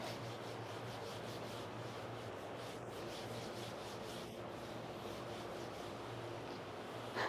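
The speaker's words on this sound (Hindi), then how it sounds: "तो हम इस पार्ट को रब कर देते हैं" A board is wiped clean of written chemistry calculations, making a faint, steady rubbing and scraping under a low hum, with no talk.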